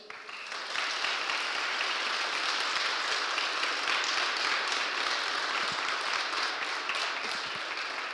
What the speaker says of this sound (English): Okay, round of applause for all our speakers.